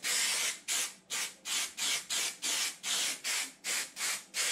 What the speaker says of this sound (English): I'm going to spray a couple of inches on there and a couple of inches along the wood too.